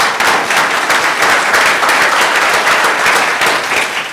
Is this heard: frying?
no